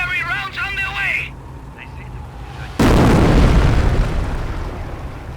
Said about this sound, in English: Incendiary rounds on their way!